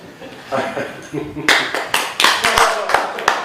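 Audience applause for a magic trick: a voice talks at first, then a burst of clapping breaks in, with several loud, distinct close claps over a rougher spread of hands.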